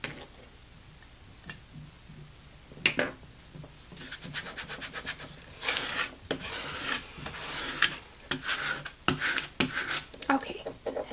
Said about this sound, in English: let me just scrape this down.